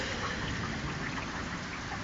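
Steady rain falls during a thunderstorm, a dense, even hiss of drops on surfaces with no pauses or voices, moderately quiet and close.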